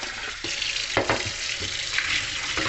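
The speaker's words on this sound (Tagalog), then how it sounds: "So ngayon, huhugasan ko muna yung ating munggo" Running tap water pours steadily over mung beans being washed in a bowl at a kitchen sink, a continuous close splashing with occasional louder sloshes as the beans are stirred by hand.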